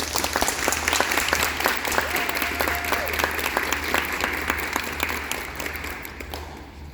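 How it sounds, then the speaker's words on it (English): An audience at a 6th grade spring orchestra concert applauds the student musicians, a dense, steady crackle of many hands clapping that tapers off toward the end. "they should be applauded for that"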